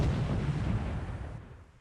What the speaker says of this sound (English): He's like using his main cannon too.